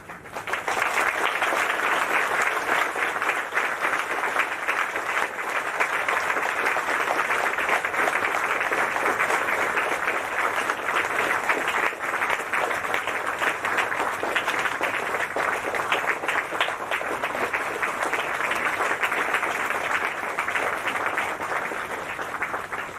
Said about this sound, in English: clap your hands to welcome our respectable speaker